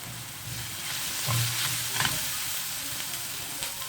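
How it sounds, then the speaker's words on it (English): Curry leaves and a masala mixture with salt sauté and sizzle steadily in a pan, with stirring scrapes and small crackling bursts throughout, close and moderately loud, no voices. "Add little bit of salt so that the mixture gets sauteed really fast."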